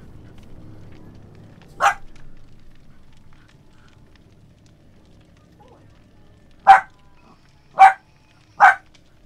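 A dog barks four times, one sharp bark, then after a long pause three more spaced about a second apart, fairly close and loud over a quiet room.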